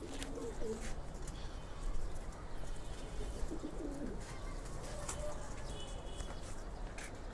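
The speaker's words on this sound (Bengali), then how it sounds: "এই যে দেখুন আমাদের বাসার এক পেয়ার লালপাতি কবুতর" A pair of red Lal Pathi pigeons coos softly at home, low rolling calls at intervals over a noisy background.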